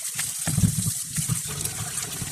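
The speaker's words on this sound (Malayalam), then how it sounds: "പിലോപ്പി നന്നായി ക്ലീൻ ചെയ്തെടുക്കുക" Pilopi fish being washed in water while prepared for a mango curry, a short stretch of running, splashing water close by with small sloshes, no talk.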